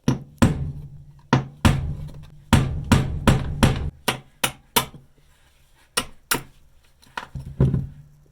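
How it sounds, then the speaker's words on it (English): A metal punch struck with a hammer to drive corroded rivets out on a GMC motorhome, about a dozen sharp, ringing blows in uneven clusters, close and loud with no speech. "putting this metal punch into the middle of the rivet to hit the rivet all the way through"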